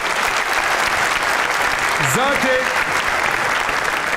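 Audience applause, a dense steady clapping from a crowd that fills the whole stretch, with a voice speaking briefly over it.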